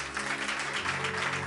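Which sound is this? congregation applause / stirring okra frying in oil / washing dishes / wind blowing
congregation applause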